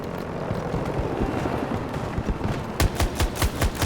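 Shotgun blasts ring out in a shooting video game, a rapid run of sharp gunfire cracks that turns into several loud, separate booms in the final second or so.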